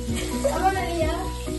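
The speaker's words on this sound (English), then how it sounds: "First, we have to wash our hands" Water runs from a tap during handwashing. The flow is soft and continuous, and splashing and children's voices mix over it.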